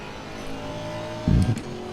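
An Aston Martin GT4 race car engine in the racing game Assetto Corsa Competizione: a steady engine drone with a brief louder burst of revving and thumps late, close and alone.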